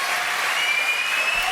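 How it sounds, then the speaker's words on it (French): Television studio audience applauding, a short, dense, even burst of clapping heard alone with no voices over it. "Bah, messieurs, applaudissements"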